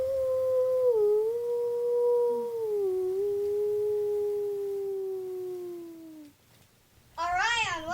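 A person imitates a wolf howl: a single long, steady sustained voiced howl, close and fairly loud, slowly falling in pitch over about six seconds before trailing off, then a short burst of speech.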